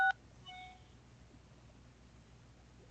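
One short telephone keypad tone as the 6 key is pressed to resolve a PagerDuty alert, sharp and brief at the start, followed by a faint beep and quiet line hiss.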